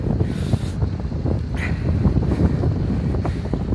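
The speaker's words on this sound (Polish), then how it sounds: "Strasznie wieje wiatr, co pewnie teraz słyszycie." Strong wind roars steadily into the microphone outdoors during a thaw, a constant low rumbling buffet with gusty swells and no voices.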